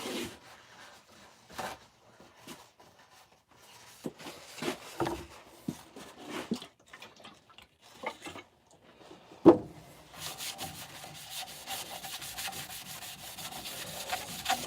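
A wooden bowl with a nice grain is sanded by hand in short, scratchy rubbing strokes, irregular at first, then a sharp knock and a steadier, continuous hiss of abrasion toward the end.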